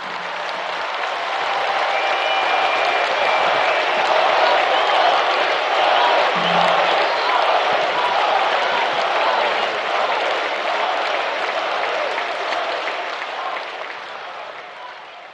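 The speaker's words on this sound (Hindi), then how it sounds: "आप जोर से तालियां बजाकर उनका फिर से अभिवादन कीजिएगा।" An audience applauds at a 550th-anniversary celebration of the Gokarna Partagali Jeevottam Math in Goa, with loud, dense, sustained clapping from a large crowd that holds steady and eases slightly at the end.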